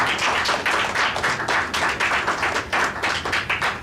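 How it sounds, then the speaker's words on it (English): An audience at a music production career panel applauds a panelist being introduced, steady close clapping from a modest crowd throughout. "So please, round of applause for"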